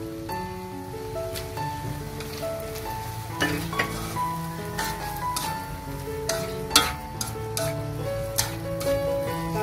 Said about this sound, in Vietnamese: Rồi tiếp theo mình để tôm vào luôn